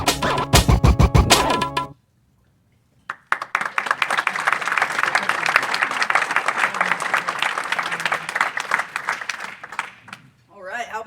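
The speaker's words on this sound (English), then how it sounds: "Let's give her another round of applause" A conference audience applauds after a video screening at an investors' live-streamed event, a burst of claps at the start, a short pause, then sustained steady clapping that tapers off near the end.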